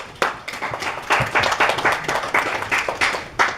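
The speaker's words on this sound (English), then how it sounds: "Yeah, you guys clap." An audience claps at a church service, a short burst of scattered, uneven hand claps from a modest crowd that carries on steadily without fading.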